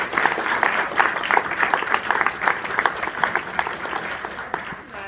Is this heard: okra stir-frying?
no